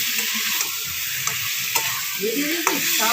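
Potatoes tossed with spices in a hot pan for aloor dum, giving a steady bright sizzle broken by a few sharp spatula scrapes and clinks against the pan.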